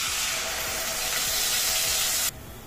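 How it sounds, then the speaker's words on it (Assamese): A loud, steady sizzling hiss of onion paste frying in hot oil with cloves, cardamom and cinnamon, cutting off abruptly near the end. "এয়া মই পিয়াজখিনি ভালদৰে ভাজি লম"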